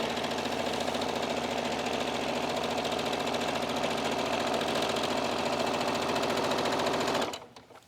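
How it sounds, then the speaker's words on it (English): Close, loud sewing machine running a steady straight stitch through fabric, a fast continuous mechanical chatter that holds for about seven seconds before stopping abruptly. "you're just going to sew with a straight stitch all the way around"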